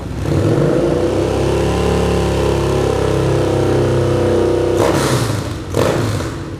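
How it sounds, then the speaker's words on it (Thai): Loud, close rumble of a 2014 Yamaha Bolt motorcycle with a Vance & Hines aftermarket exhaust, held at a steady raised idle before two quick throttle blips near the end. "คันนี้มาเพราะว่าท่อแต่งจากแวนไฮครับเดี๋ยวฟังเสียงท่อคันนี้กัน"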